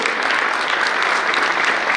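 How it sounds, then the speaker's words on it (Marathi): Steady, dense audience applause at a lecture event, loud and continuous for the whole stretch with no speech over it. "जोरदार एकदा टाळ्या होत जाऊ दे."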